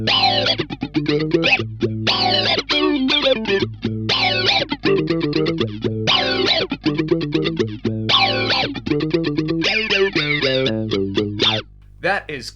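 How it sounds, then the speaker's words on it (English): An electric guitar runs through the cry formant effect of a Zoom 9030 multi-effects unit, giving vowel-like, vocal sweeps to a series of plucked notes and short phrases with brief gaps between them. "We got this cry. I'm guessing this is like a cry baby."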